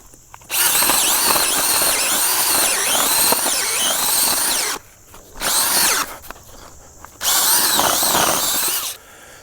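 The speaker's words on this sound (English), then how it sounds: "I'm using a drill here with a 2-inch auger" A power drill with a 2-inch auger grinds loudly into soil in three bursts, the first long, then two shorter runs separated by brief pauses.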